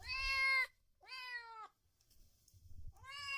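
A cat meows three times, each a clear, tonal, slightly drawn-out cry close by, separated by short pauses with faint low background rumble.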